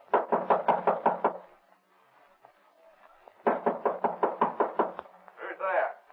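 Two loud, rapid bursts of knuckle raps on a bolted, locked door in a vintage radio police drama, about eight knocks each, close and sharp, separated by a quiet pause, with a voice calling out right after the second burst.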